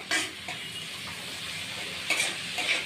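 A spoon scrapes through garlic, green chilli paste and tomato paste in a hot pan for a dried-fish curry. Several close scrapes sound over a steady soft sizzle, with no voices.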